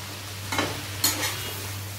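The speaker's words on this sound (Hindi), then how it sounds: "अब इसको अच्छे से मिक्स कर लेंगे।" Spinach being stirred into masala in a pan, two soft scraping sweeps over a low steady hum with faint sizzle underneath, no talk.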